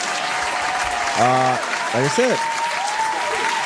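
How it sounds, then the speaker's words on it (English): Steady applause fills the background while someone briefly speaks over it. "I got to give him a round of applause"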